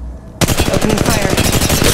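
Rapid automatic gunfire from a squad-based video game bursts in abruptly after a brief quiet moment, continuing as a loud, dense rattle of shots to the end.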